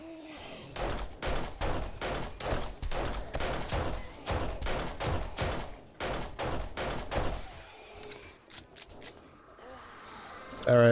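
Rapid bursts of SMG gunfire from the game 7 Days To Die rattle in a steady, fast stream for several seconds during a large zombie horde fight, then thin out into scattered shots.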